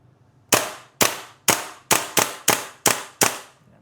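An airsoft gas blowback pistol fires eight sharp, loud, close shots on semi-automatic, evenly spaced roughly every half second, each with a crisp snap and quick decay.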